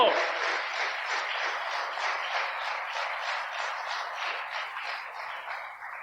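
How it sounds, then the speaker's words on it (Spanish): A church congregation gives loud, sustained applause for Jesus Christ, dense clapping that holds steady for several seconds and slowly tapers, with no talk over it. "Denle un aplauso bien fuerte a Jesucristo."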